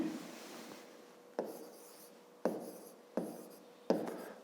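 A pen writing notes on paper for a fifth-grade math exercise, close and quiet, with scratchy strokes and several sharp taps as new marks begin, with no voices.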